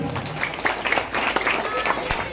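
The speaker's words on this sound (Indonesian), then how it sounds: "tepuk tangan" Audience at a religious talk gives a short burst of scattered applause, brief claps mixed with crowd voices and talk.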